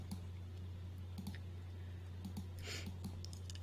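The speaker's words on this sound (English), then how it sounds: "So again, I'm just clicking and dragging" Computer mouse clicking during image editing, with sharp, quiet clicks scattered irregularly over about three and a half seconds over a steady low electrical hum.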